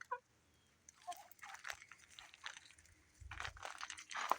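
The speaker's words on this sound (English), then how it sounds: "And of course the chickens are down here like always." Chickens cluck and scratch around a garage workspace, soft scattered pecking and faint clucks coming and going at moderate distance, no talking over them.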